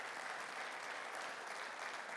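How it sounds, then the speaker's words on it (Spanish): Congregation applauding in a church service, a steady even wash of clapping heard at a distance and fairly soft, with no speech over it. "le dan un fuerte aplauso al Señor"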